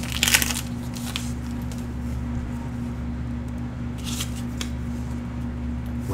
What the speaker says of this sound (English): Can I get this pack open?